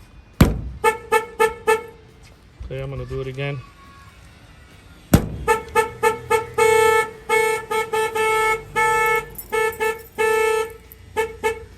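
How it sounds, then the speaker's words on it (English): A 1969 Chevy Camaro's car alarm sounds close and loud, with repeated sharp chirps and honks in a steady pattern, then a longer run of rapid honking; a person speaks briefly. "If somebody bangs on the window, the alarm's gonna set off."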